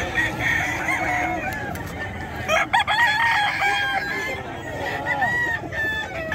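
Gamecocks crow repeatedly at a busy chicken market in Bocaue, several roosters calling and clucking over one another amid crowd noise and someone talking.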